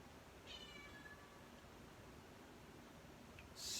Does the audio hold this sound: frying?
no